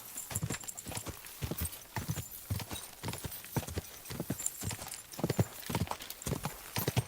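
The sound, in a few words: horse hooves and whinny in Kingdom Come: Deliverance II video game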